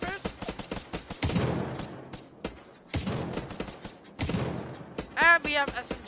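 Sniper rifle fire in the video game Unturned, with a couple of heavy, booming shots that ring out and fade, separated by gaps of near-silence; a voice talks briefly near the end.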